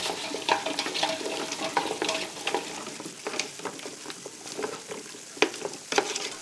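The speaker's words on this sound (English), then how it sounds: "Give it a good mix." A spoon stirs chestnut and tomato stew with pureed tomato sauce in a pot, a steady wet scraping and sloshing with scattered soft knocks and light sizzle throughout, close by and without voices.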